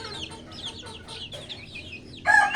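Several chicks just over a month old, nine in a backyard flock, give rapid high-pitched peeps and chirps, close by and moderately loud, with a slightly stronger burst of calls near the end.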